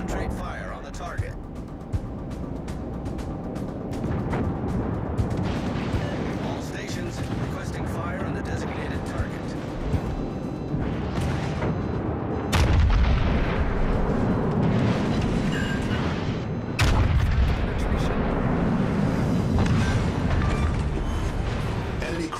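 Naval artillery fire from Yamato-class battleship guns in World of Warships: Legends, a dense, continuous roar of booms and rumbling blasts with sharper reports near 12.5 and 17 seconds, loud and layered over game noise.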